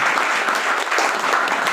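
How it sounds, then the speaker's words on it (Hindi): An audience bursts into loud, dense, continuous applause at a WPL platform gathering, the clapping sustained evenly throughout with no talk over it. "एक बार जोरदार ताली बजाइए।"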